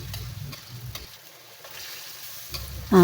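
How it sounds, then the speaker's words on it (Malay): Steady crackling sizzle of fish coated in salt and turmeric frying in hot oil, with a few clinks of stirring at the start and a louder thump at the end. "Ikan digaul garam kunyit, goreng ya."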